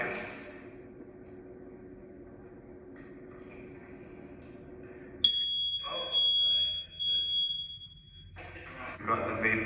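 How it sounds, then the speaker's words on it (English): A vape alarm in a large 1970s middle school sounds a steady, piercing high electronic tone that starts abruptly midway and holds, over a hum of building noise with occasional voices. "We've got the vape alarm in this one too."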